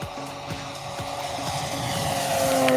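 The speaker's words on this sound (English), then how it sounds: "So we're gonna do a couple of low flybys" A radio-controlled model airplane making a low pass at full throttle, its steady engine whine holding throughout and slowly growing louder as it nears.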